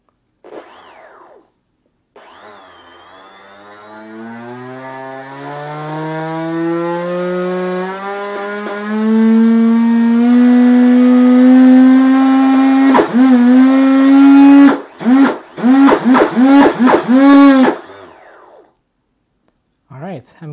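An Arctic Cat engine with trim all the way down revs up steadily through a throttle test, then breaks into choppy, stuttering bursts with abrupt dropouts near the end, loud and close.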